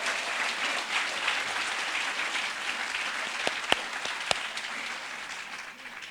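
An outdoor crowd applauds at the ribbon cutting for the William H. Jervey, Jr. Venice Public Library. The clapping is sustained and even, with a few sharper individual claps standing out before it slowly tapers off.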